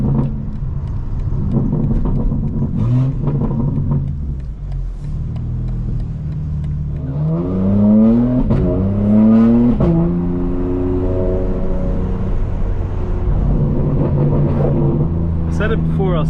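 A 2024 G82 BMW M4 Competition xDrive engine revving on the road, a steady low rumble rising into climbing revs mid-drive, heard beneath someone talking throughout.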